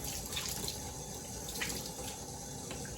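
Tap water runs steadily into a kitchen sink while tomatoes are washed, a continuous close splashing hiss with a few brief spatters.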